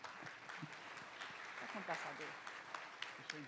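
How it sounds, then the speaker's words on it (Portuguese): An audience at a federal justice symposium on public procurement and contracts applauds as professor Vitor Amorim is welcomed onstage, with scattered, fairly faint clapping under nearby talking voices. "Uma salva de palmas para o professor"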